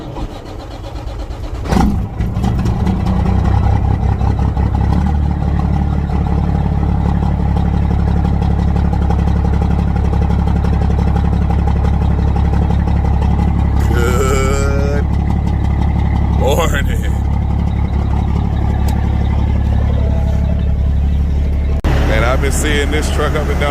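Peterbilt truck diesel engine cranking and firing up, then settling into a deep, steady, loud idle that rumbles on at close range while someone talks over it.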